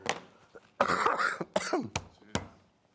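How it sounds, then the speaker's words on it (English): Someone coughs repeatedly in a harsh fit, several sharp bursts with throat clearing and short gaps between them. "that was a cough attack"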